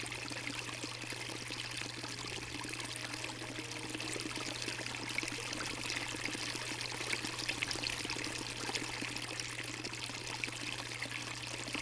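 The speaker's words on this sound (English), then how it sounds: "high pressure water is pumped into the empty vessel and the vortex is created" High-pressure water pumped into an empty vessel to form a vortex, a steady rushing, pouring wash with a constant low hum beneath it, even and continuous throughout.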